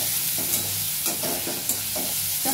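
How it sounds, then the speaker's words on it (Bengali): Onions stirred and frying in a pan for paneer korma, a steady close sizzle with repeated scraping strokes of the spoon, no talking. "পেঁয়াজ দিয়ে আমি খানিকক্ষণ এটা নাড়াচাড়া করব, মানে পেঁয়াজটা একটু লাল হওয়া চাই।"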